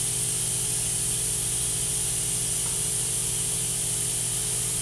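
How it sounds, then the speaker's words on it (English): Steady hissing water spray from a dental delivery unit handpiece, continuous and fairly loud throughout over a low mechanical hum, with no talking. "Make sure we got water spray coming out of it."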